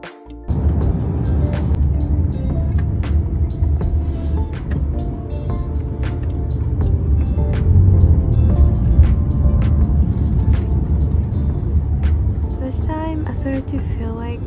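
A car driving through Dubai toward Dubai Mall gives a steady, close low road and engine rumble that continues throughout, with voices heard faintly over it.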